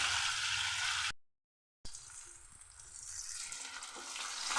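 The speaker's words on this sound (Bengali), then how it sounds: "মাছগুলোকে আমি এবারে উল্টে পাল্টে লাল করে ভেজে নিচ্ছি।" Fish pieces frying in hot oil in a pan, turned over until browned for a sour-yogurt fish curry; a steady loud sizzle with a short silent break, then the hiss resumes and builds again.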